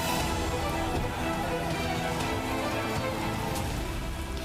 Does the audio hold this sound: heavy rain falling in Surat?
yes